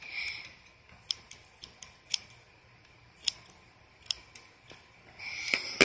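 Scissors snip hair during a child's haircut, sharp crisp clicks repeating at irregular intervals in a quiet room, with a quicker flurry of cuts at the very end.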